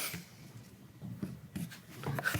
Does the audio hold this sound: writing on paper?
yes